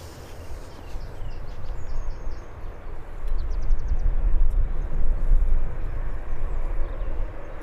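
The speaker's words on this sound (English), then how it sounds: "You have the Qatari Dreamliner." A Qatar Airways Boeing 787 Dreamliner departing Birmingham Airport gives a broad, steady jet roar that swells and thickens partway through, with faint bird calls above it.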